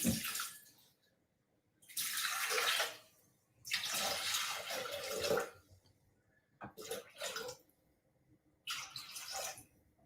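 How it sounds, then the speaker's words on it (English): Water is poured in bursts into a pot in a home kitchen to steam cabbage for cabbage rolls, with four separate splashing pours and short quiet gaps between them. "So I'm putting the water in because we're going to steam the cabbage next"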